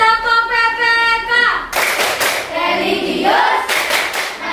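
A school class performs the rhythmic PPK clap routine, a sung or chanted lead-in followed by loud bursts of group hand claps in patterned rhythm, with children's voices chanting in between.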